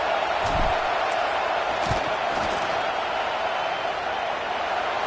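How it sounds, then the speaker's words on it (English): A stadium crowd roars in College Football 26 as a field goal unit lines up, a loud, sustained wash of noise with a few thumps and shouts rising from it, and no pauses. "This crowd trying to do its part to get inside the kicker's head."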